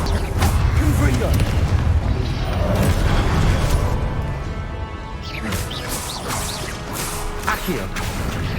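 Confringo blasting spells go off during combat in Hogwarts Legacy, with dense rumbling booms, crashes and swishing whooshes. The battle stays loud throughout, with repeated sharp bursts and voices mixed in.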